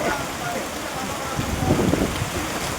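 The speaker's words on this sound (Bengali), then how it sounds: "বৃষ্টি পড়ছে দেখো, বৃষ্টি দেখো, বৃষ্টি নেমে গেছে, প্রচুর প্রচুর বৃষ্টি নেমে গেছে এখানে" Heavy rain pours down in a steady, dense wash of noise that swells slightly toward the middle, with faint voices now and then.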